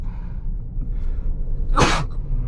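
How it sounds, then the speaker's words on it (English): A single loud, sharp sneeze bursts out inside a 2027 Infiniti QX65 after a moment of quiet breathing, close and abrupt. "I'm gonna sneeze."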